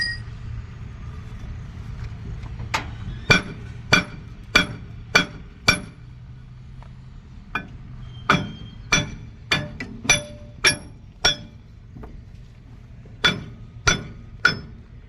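A hammer strikes a JCB axle bearing in sharp, ringing metallic blows, mostly in quick bursts of three to five hits with short pauses, loud and close over a low background hum.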